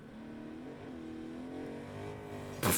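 A car engine in Agents of Mayhem revs up in rising harmonic sweeps, close and steady, ending in a sudden loud bang-like burst of noise.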